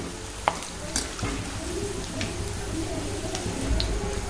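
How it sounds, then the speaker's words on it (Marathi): Gram-flour bhaji fritters deep-frying in hot oil until golden give a steady soft bubbling sizzle, with a few clinks and stirs of a slotted spoon nearby, fairly quiet. "छान असा गोल्डन कलर येईपर्यंत तळून घ्यायचे"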